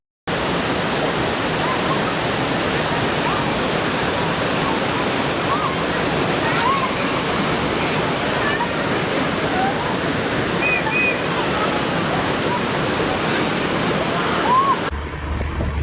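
Meenmutty waterfall's first tier in Wayanad roars as a steady, loud, dense rush of falling water, unbroken and close for the whole stretch, with faint chirps of birds over the top and no talk.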